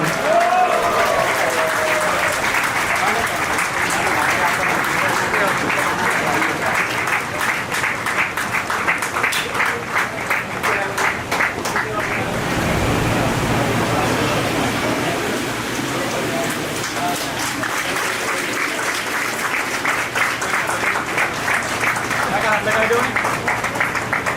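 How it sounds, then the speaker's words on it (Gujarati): Audience at a devotional bhajan gathering celebrating a 98th birthday festival in Lavachha claps continuously for the full stretch, a dense, even roar of many hands with a brief dip midway. "ખૂબ સુંદર તાળીઓથી અને હરિઓમ સાથે આપણે એમને વધાવી લઈએ"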